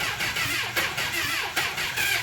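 A 1980 Honda CB750F Super Sport with a worn starter cranks in repeated labored pulses, a loud, close, uneven churning engine that keeps trying to catch without settling into an idle.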